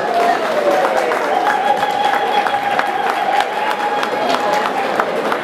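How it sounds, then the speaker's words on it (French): A charity gala audience applauds in a sustained, dense wash of clapping with some cheering, filling the room steadily for several seconds with no individual voice standing out. "Je vous demande de faire un tonnerre d'applaudissements pour tout ça."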